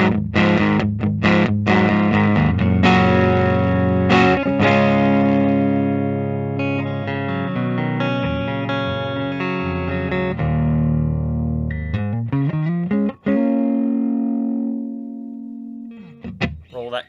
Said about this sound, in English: Now I'll try that neck position.